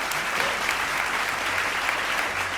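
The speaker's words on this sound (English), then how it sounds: "Round of applause for Captain Toba." Dense, continuous applause from a large audience at a cooking competition show fills the space, steady and loud throughout with no pauses.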